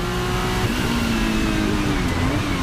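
A Porsche 935K race car at speed on track, its engine roaring loud and continuous at high revs with a slight pitch shift, no talk.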